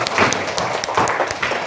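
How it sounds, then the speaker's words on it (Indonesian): A class of primary school pupils claps hands together, a brief patter of scattered, moderately loud claps with a faint voice underneath. "Beri tepuk tangan dulu"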